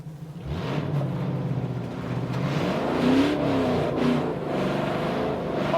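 An LS1-swapped Nissan Silvia accelerates hard in second gear into a power slide, the V8 engine rising and wavering loudly and continuously close by, with no voices.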